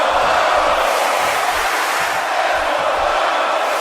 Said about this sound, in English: And now the crowd, I believe, saying, let's go Balor.